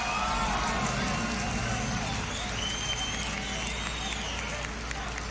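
A large crowd cheers and applauds continuously at a beatbox battle showcase, a dense steady roar of clapping and voices filling the space without pause.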